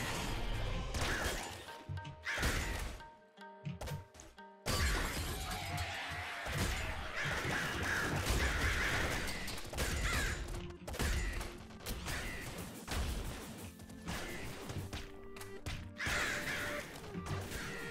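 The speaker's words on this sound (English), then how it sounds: "We're getting an intermittent, like, fucking path of crows." Crows caw in the top-down shooter Nuclear Throne during a boss fight with the Crown Glutton, the intermittent cries mixed with gunfire, crashes and dense game effects, no speech.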